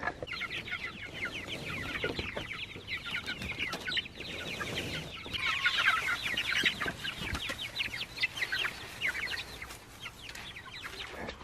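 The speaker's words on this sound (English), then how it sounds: "The meat birds sound nice and lively this morning." Lively meat chickens in a barn clucking and chattering continuously at close range, many overlapping calls forming a busy flock sound with no talking.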